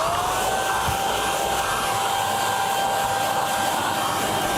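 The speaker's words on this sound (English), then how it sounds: "So it just depends on where you're using this vacuum cleaner." A vacuum cleaner with a brush attachment runs steadily while cleaning a stairway, giving a loud continuous motor whine and airflow rush with a slight rise in pitch at the start and no talk.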